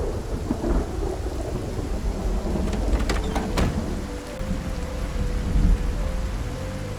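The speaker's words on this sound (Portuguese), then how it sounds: "o temporal está muito forte" Heavy rain pours steadily through a thunderstorm in the survival video game Project Zomboid, with rolling thunder rumbling underneath and a few sharp, bright cracks clustered midway, all loud and continuous without voices.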